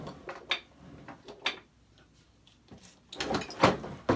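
Wooden drawer being pulled open and pushed shut at home, a few soft clunks and sliding knocks spread across a quiet moment, with a louder cluster of rattling knocks near the end.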